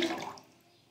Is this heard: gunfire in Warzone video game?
no